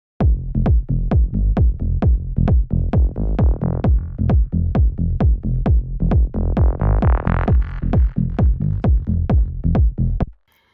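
A synth bass line made in Serum plays repeated punchy plucked notes in a steady rhythm, with delay echoes and a pitch-bend sweep that rises and thickens midway before cutting off cleanly; no talking.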